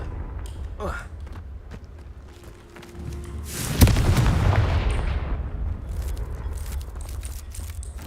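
A Confringo explosive spell is cast in Hogwarts Legacy, landing as a loud burst with a sharp onset and a rumbling, crackling tail that fades over a few seconds over a steady game background.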